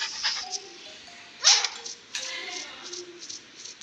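A dog in a video game gives a few short barks and yips at close range, over quiet game background and some talk.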